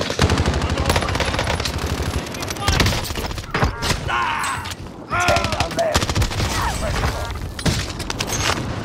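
Rapid bursts of automatic gunfire from Call of Duty Vanguard Warzone on Rebirth Island, including a Cooper Carbine, crackle loud and close in dense volleys with booms and thuds, while voices speak over the fighting.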